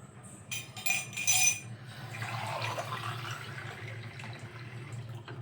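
Fresh water pours steadily, a soft continuous splash with a few light clinks near the start, fairly quiet throughout and with no talking.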